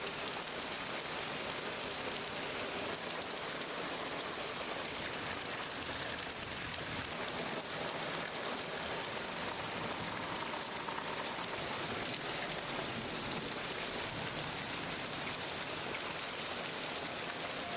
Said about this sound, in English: a short rainstorm blanketed the area.